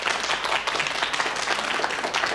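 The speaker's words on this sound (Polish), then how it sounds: "Duże brawa dla waszych kolegów." Children in a music classroom applauding their classmates, a lively patter of many small hands clapping, moderately loud and slightly uneven throughout.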